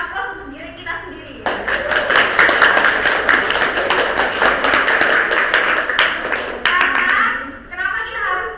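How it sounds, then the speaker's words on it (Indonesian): A lecture class audience breaks into loud, dense applause that lasts several seconds before tapering off, with voices speaking before and after. "Kalau semangat, coba kita beri aplaus untuk diri kita sendiri."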